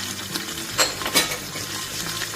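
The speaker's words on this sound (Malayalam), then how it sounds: "ഇനി കുറച്ച് ഉള്ളി ഇട്ടെടുക്കാം ഇനി കുറച്ച് ഉപ്പും കൂടി ഇട്ടെടുക്കുന്നുണ്ട് കേട്ടോ ഇനി ഇത് നന്നായിട്ടൊന്ന് ഒന്ന് വാട്ടിയെടുക്കാം" Onions with salt and spices sauté in ghee, a steady sizzle broken by several sharper scrapes and clinks of a stirring utensil against the pan, close and fairly loud, with no talking.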